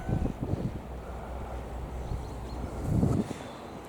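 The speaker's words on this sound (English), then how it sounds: "It's a cold wind." Cold southerly wind buffets the open air outdoors, a steady low rush with gusts swelling near the start and again toward the end.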